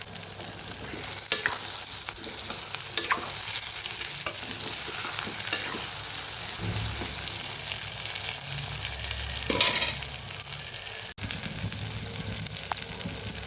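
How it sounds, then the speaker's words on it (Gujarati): Eggplant and potatoes sauté in oil for a stuffed vegetable curry, giving a continuous close sizzle broken by occasional scraping stirs of the pan. "રીંગણા અને બટેટાને આપણે સરસ સાતળી લેશું તેલમાં."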